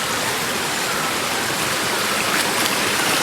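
A forest stream flows with a steady, even rushing hiss, close and continuous, with no voices over it.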